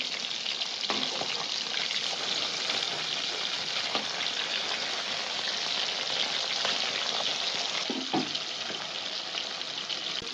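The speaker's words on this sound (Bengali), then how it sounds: "সর্ষেটা ভুনবো" Mustard seeds dry-roasting in a pan, a steady dense crackle and sizzle that fills the whole stretch at an even level, with a few sharper scrapes or pops breaking through.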